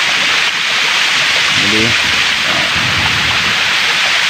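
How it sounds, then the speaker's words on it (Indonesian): A waterfall near Suroloyo peak pours with a constant broadband hiss of rushing water, steady and close, while a person speaks briefly over it. "Pokoknya kita udah tahu ini seperti ini air terjun di sini"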